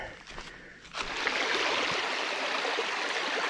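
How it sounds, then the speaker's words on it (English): Snowmelt-fed creek flowing along a hiking trail, a steady close rush and gurgle of water that swells up after about a second and then runs on continuously. "You got a good flowing creek right here."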